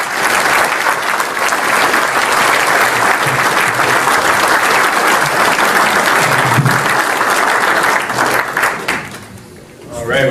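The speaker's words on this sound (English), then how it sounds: "I just want to have you guys have a little round of applause for Armin" Sustained applause from a conference audience at a leadership talk fills the room, dense and steady for about nine seconds before tapering off near the end, with a little crowd noise mixed in.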